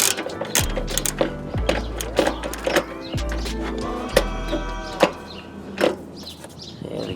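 A ratchet unscrews 10mm airbox screws on a 2017 Subaru Forester XT. It makes close, loud runs of fast clicks broken by a few sharp knocks and pauses, with no talking.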